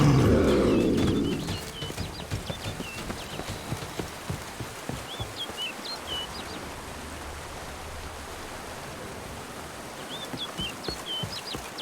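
Small birds chirp in short twittering phrases in the video game The Witcher 3: Blood and Wine, faint and intermittent over an outdoor ambience of soft rushing noise and light thuds, after a louder opening rumble.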